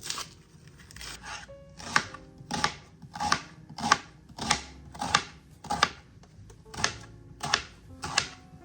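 An onion being cut on a board with a knife, a steady run of about a dozen crisp chopping strokes, close and fairly loud, with no voices.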